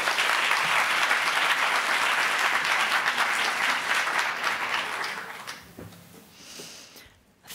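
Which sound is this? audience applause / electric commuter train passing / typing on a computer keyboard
audience applause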